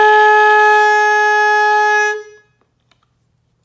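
A single sustained saxophone note with the player's mouth corners shaping the tone, loud and steady for about two seconds before cutting off into near silence.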